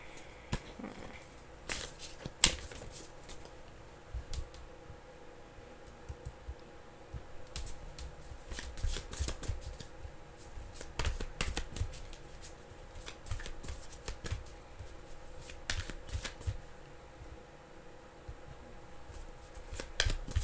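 Tarot cards are shuffled close by, with repeated soft riffling and flicking bursts and light taps spread across the whole stretch at moderate level, with no speech.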